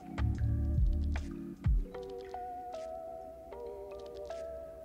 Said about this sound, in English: I like to wet my hands and splash some water.